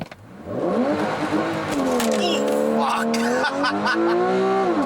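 A 2015 Porsche 911 Carrera S engine roars loudly at close range as it launches and accelerates hard, the pitch climbing and dipping through gear changes.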